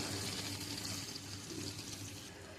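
Water runs steadily into a pan of ginger spice paste being cooked for Bengali dhokar dalna, a continuous close gush with no talk over it.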